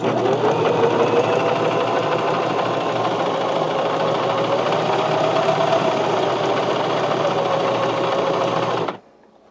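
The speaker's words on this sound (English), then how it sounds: "when you're doing a buttonhole on a 4-step buttonhole machine like this" A 4-step buttonhole sewing machine stitches a buttonhole with a loud, steady, close mechanical whir that runs without a break for about nine seconds and then stops abruptly.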